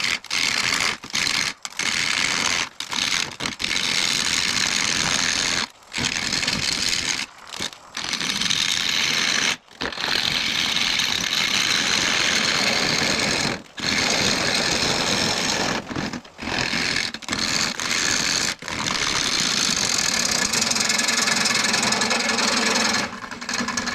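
Mesquite bowl blank spinning on a wood lathe at 600 RPM, a continuous rough hissing and scraping as the cutting tool bites, broken by frequent short pauses when the tool lifts away.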